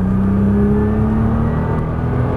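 A Nissan GT-R accelerates hard on a Las Vegas racetrack, its engine a loud, steady close-up drone with a rising whir, continuous and alone throughout.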